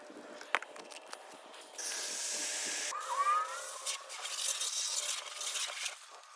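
Water spray hisses across a faded Lexus car hood during a wash, a steady spraying rush that starts after a few light knocks and continues with some changes in intensity, fairly quiet and without talking.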